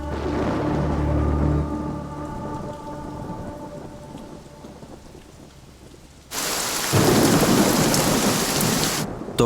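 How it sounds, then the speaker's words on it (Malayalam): Heavy rain with thunder from a storm, a low rumble and steady downpour at first, then the rain suddenly swells into a loud, dense roar near the end. "മഴ തോരാൻ ഇനിയും സമയമെടുക്കും."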